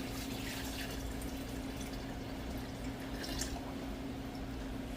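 Liquid steadily pouring into a jar of diced tomatoes being filled for canning in an electric pressure canner, a continuous soft close-up splashing and trickle with no talk.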